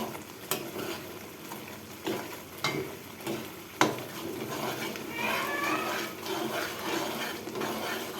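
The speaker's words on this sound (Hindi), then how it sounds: "मसाले को मैं अब भून रही हूँ।" Masala spices are roasted and stirred in a pan, producing a steady sizzle with occasional sharp scrapes and knocks of the spoon, with voices and children faintly in the background.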